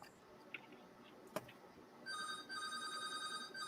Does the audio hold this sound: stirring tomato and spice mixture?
no